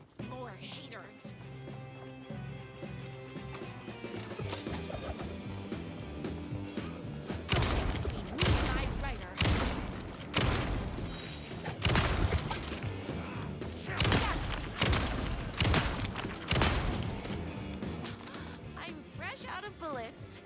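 Gunfire in Alan Wake 2, Night Springs expansion: a run of loud, sharp bursts of shots from the middle onward over a busy bed of game music and effects, with clusters of hits repeating every second or two.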